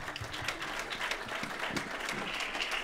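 Audience applause at the Woodstock Film Festival, a brief, fairly faint wash of many people clapping, continuous and even throughout.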